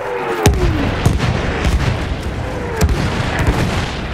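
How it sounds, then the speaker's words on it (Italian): Enemy artillery fire in the trench-warfare shooter Battlefield 1, with sharp blasts and whistling incoming shells landing at irregular intervals over a steady rumbling battlefield din. "Attendi la fine dei colpi d'artiglieria nemici"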